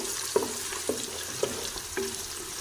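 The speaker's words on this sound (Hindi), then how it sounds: "प्याज को हम अच्छे से ब्राउन करेंगे।" Onions frying in a pan and being stirred, with a steady hiss of sizzling oil under four evenly spaced scrapes of the spoon, close and fairly loud.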